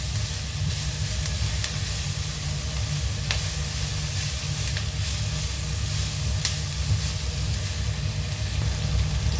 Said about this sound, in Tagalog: ilagay na natin yung ating bacon